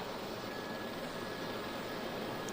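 An aircraft lands hard on a runway with its tires burning, heard as a steady, even broadband roar that does not change for the whole moment.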